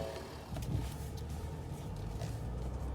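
A Ford F-150 with the 3.0 diesel engine idles with a low, steady rumble and faint clatter, heard from close by, continuous and fairly quiet.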